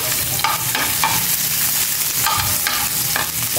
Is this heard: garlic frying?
yes